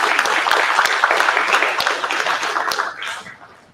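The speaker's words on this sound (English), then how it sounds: "Can we have a huge round of applause for all our speakers?" A conference audience gives the speakers a round of applause. The dense clapping is steady and close, then thins out and fades toward the end.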